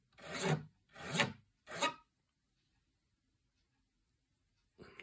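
A guitar pick scraped across the edge of a Harley Benton guitar cabinet gives three loud, close rasping strokes, each about half a second long, then silence before a fourth stroke begins.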